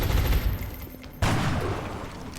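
A video game officer fires a hollow-point shot at a muton: one abrupt, loud gunshot blast midway that decays into a rumbling tail, with an earlier low rumble before it and no talking.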